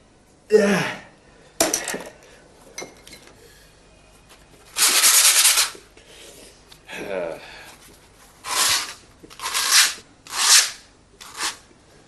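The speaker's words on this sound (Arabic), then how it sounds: "صنفرة ما جابتش نتيجة" Several short bursts of rough abrasive rubbing, like sandpaper scraped over a surface, spaced irregularly with quiet gaps between strokes.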